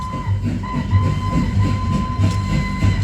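Train running on rails as a sound effect in an evening light and sound show at the Cellular Jail, a loud rolling rumble with regular clickety-clack beats repeating about every half second.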